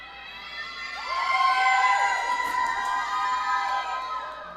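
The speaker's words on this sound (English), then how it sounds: "the crowd is going wild" Roller derby crowd at a junior allstars bout between Columbia and Savannah, a sustained wash of cheering and high shouting voices filling the venue, steady and moderately loud.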